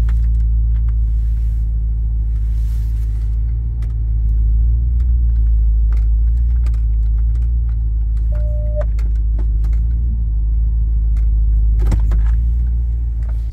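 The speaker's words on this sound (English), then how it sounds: "So there you go, that's all the exhaust, Hellfire cam." A 6.4 HEMI Ram 2500 with an FRP Hellfire 2.0 cam and Karnage Performance exhaust idles with a steady, deep, lumpy rumble, heard close and alone with faint small clicks.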